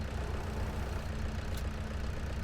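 A tractor engine idling in Farming Simulator 22, a steady low mechanical rumble with a constant drone throughout, fairly loud and unbroken, with no talk over it.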